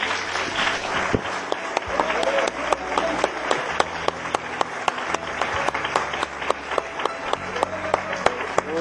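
A church congregation applauds steadily during a Portuguese-language service, a dense wash of many hands clapping with sharper individual claps standing out, continuing throughout at a lively, even level.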